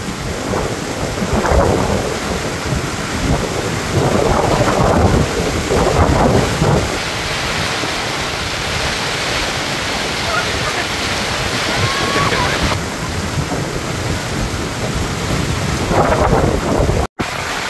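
Sudden heavy rainstorm with thunder pounds down steadily and loud outdoors at a coastal spot while mud clams are cooked, with thunder rumbling and gusts buffeting throughout.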